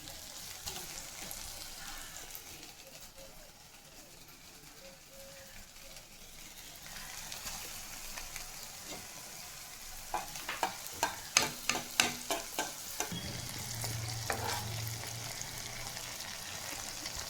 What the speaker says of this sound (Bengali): এই পিঠ ও পিঠ সব ভালো করে লাল করে ভেজে তারপর তুলে নেব